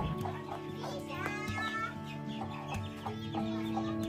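Hens clucking in a Konkan village yard, a steady run of close, repeated clucks and short calls that continues throughout at moderate loudness.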